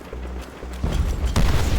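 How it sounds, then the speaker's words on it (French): A grenade explosion in Call of Duty: World at War amid wartime battle noise: low rumbling combat gives way to a sudden loud blast, followed by another sharp impact and ongoing crackling din. "Soldats! Lancez une grenade là-haut!"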